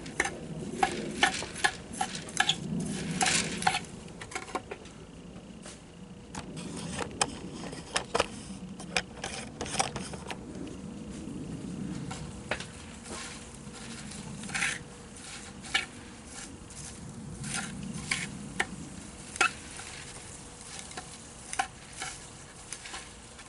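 Scraping and scratching as the roots of a Chinese elm bonsai are combed out, irregular close rasping strokes with sharp little clicks and ticks scattered through, no speech.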